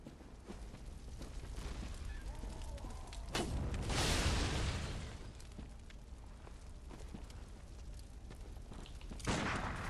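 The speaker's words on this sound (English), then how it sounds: "that cannon right there" Cannon fire in the video game Bloodborne: a loud booming blast rolls out in the middle, followed later by a second sharp bang over a dark, noisy background.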